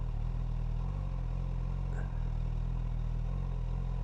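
A Suzuki GSX-S1000F motorcycle engine idles steadily close by, and as the clutch reaches its friction point the revs lift slightly with a brief change in tone, heard alone without talk.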